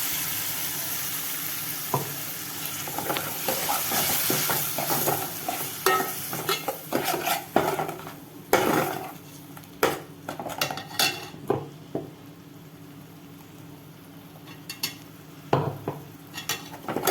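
Tomatoes being sautéed with onion, ginger and garlic in a pan for chicken curry, a soft sizzle under frequent clinks and scrapes of a metal spoon against the pan, close, with irregular sharp knocks.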